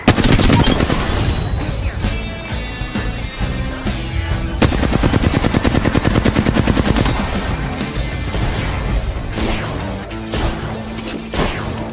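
Heavy gunfire from the Apex Legends video game fills the scene, with dense machine-gun bursts, sharp single shots and crashing impacts, loud and nearly continuous.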